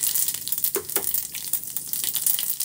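Mustard seeds and cumin sizzle in hot oil, giving a steady close crackle with small pops and spatters throughout.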